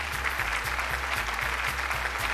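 Audience applause at an awards show, a steady, even wash of clapping from a large crowd, moderately loud, with no talk over it.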